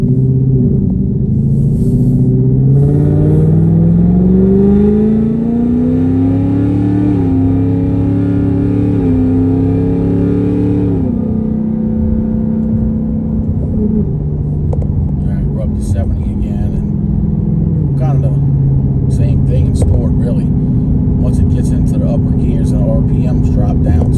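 Inside a 2024 Mustang GT with a Corsa Xtreme cat-back and Kooks catless long-tube headers, the engine note climbs steadily through the gears in sport mode, loud and close, before settling into a lower drone with rattles and thumps.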